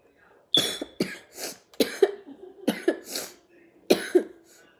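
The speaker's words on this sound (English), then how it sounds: "I might carry a coughing a lot because I have strep throat" A person with strep throat coughs in several short, harsh bursts, close up, with brief quiet gaps between fits.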